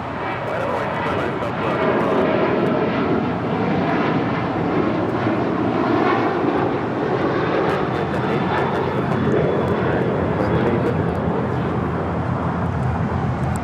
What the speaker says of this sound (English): This is American Airlines 2780 taking off to Austin on the 737-800